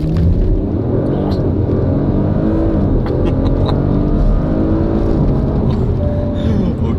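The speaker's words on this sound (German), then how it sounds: "So, mal versuchen, ESP aus. Launch Control." An Audi RS4 making a launch-control start with stability control switched off, a loud, continuous close engine roar that holds steady and strong throughout as the car accelerates hard.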